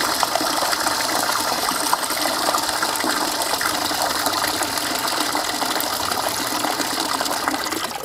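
Water gushing steadily from an opened tap on the pressure tank of a submersible pump system, a continuous broadband hiss and rush with a faint mechanical rattle, close and loud throughout with no talking.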